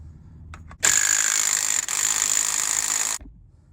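Power tool whirs off a CV axle nut with a 36mm socket on a 2005 Chevy 2500HD, a loud sustained buzzing impact burst of about two and a half seconds with a brief dip midway, after a few faint clicks.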